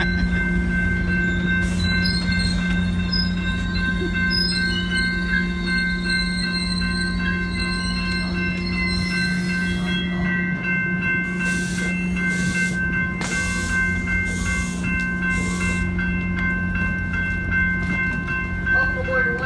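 A Metrolink commuter train rumbles steadily nearby in Simi Valley with a constant electric hum and high-pitched wheel squeals, ending in hissing bursts as it comes to a stop.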